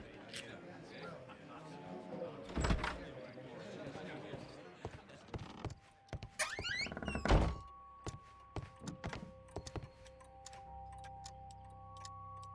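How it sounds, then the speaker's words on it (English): Key unlocking a lock in the Sherlock Holmes: Crimes and Punishments video game, with scattered clunks, clicks and ticking mechanical sounds over quiet game ambience. "Mr. Butler's key matches the lock perfectly"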